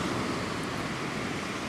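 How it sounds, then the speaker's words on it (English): Steady wash of ocean surf breaking on a beach on Reunion Island in the Indian Ocean, a continuous broad roar with light wind noise and no voices. "So I'm sitting basically on the beach."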